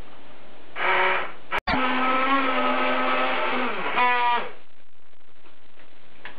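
A blender purees curried butternut squash soup with a loud, steady whirring motor for about three and a half seconds. The motor stops briefly once, then its pitch shifts near the end before it winds down. No one talks.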